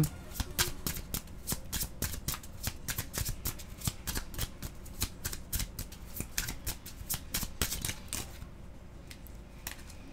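Tarot cards being drawn and shuffled from a deck during a card reading, producing a rapid, continuous run of crisp flicks and riffles close by, with no talk over it.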